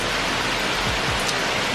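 Steady heavy rain pours outside a trail shelter on the Long Trail in Vermont, a dense even hiss of drops on surfaces close by with no talking.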